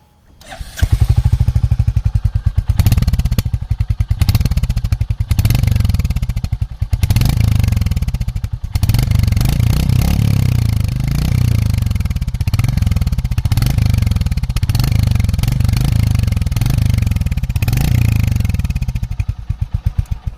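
A Royal Enfield Hunter 350 single-cylinder motorcycle exhaust thumps at a steady low idle and low revs, loud and close, with evenly spaced pulses and a few throttle blips, with no talk.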